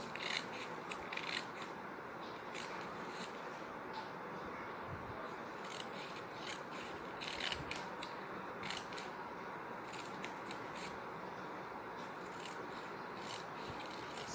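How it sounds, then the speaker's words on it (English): Scissors snip repeatedly through paper, cutting it into strips in a steady series of close, crisp cuts over a low background hiss, with no talking. "So continue your cutting till last line. You have to continue this cutting."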